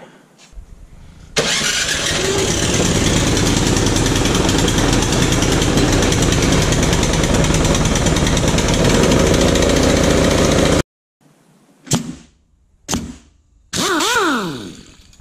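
A Briggs and Stratton two-stage snow blower engine starts and runs at a loud, steady roar for about ten seconds, then cuts out into quiet, followed by a few short bursts of noise as it restarts and revs.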